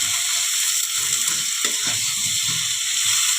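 Potatoes frying in spiced oil in a pan, a close, steady bright sizzle with soft clicks and scrapes of stirring underneath, no voice.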